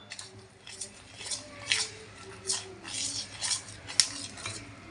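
Spoon stirring horse gram flour batter in a pot, Malvani-style cooking, with a series of light scraping clinks and swishes repeating at an uneven rhythm, close and moderately faint, no talking.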